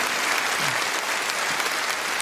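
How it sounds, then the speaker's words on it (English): Crowd at a political campaign rally in Norfolk gives sustained applause, a thick, even roar of clapping from a large audience, loud and unbroken. "another round of applause for Scott Woodhouse and Tina Goodell"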